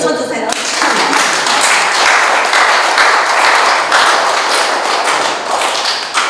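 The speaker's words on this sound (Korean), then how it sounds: "박수 좀 쳐주세요" An audience at an art exhibition breaks into applause, a loud, dense patter of many hands that starts abruptly and holds steady for several seconds, with voices mixed in.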